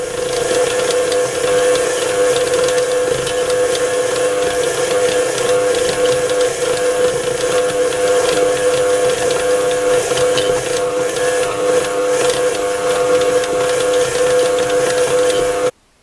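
A food processor kneads plum pie dough with a loud, constant motor whine and a steady drone that runs unbroken for the whole stretch, then cuts out abruptly at the very end.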